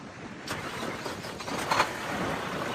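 A 2016 Mack Pinnacle CXU613 truck engine cranks and fires up at close range, settling into a steady rumbling idle with a brief surge partway through.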